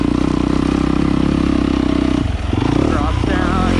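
A 2017 Yamaha YZ250F dirt bike rides a trail over rollers and a sweeping uphill turn, its engine droning loud and close with a brief dip and then revving back up, while someone talks over it.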